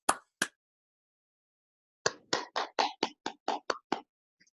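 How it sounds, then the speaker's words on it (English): A small group claps hands, two isolated claps and then a short run of about nine distinct claps, each close and crisp against silence. "we can clap our hands and thank Larissa for that"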